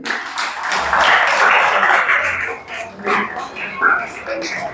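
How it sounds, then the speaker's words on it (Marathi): An audience at a 2024 Dhamma class inauguration ceremony claps in a dense burst of applause that fades out, followed by voices speaking over the hall. "आपण टाळ्या वाजवायच्या."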